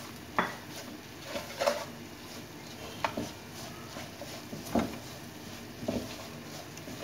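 A spoon stirs chili flakes, salt, turmeric, amchur, chaat masala and chicken powder in a pan, making faint, scattered metallic clinks and scrapes every second or so against a quiet background.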